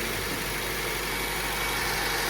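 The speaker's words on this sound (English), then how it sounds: "So now I'm letting the engine warm up." A 1980 MGB engine idles steadily while warming up in a garage, a continuous low rumble with even vibration, close and fairly loud with no talking.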